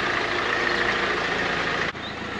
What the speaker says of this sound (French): Je laisse le moteur tourner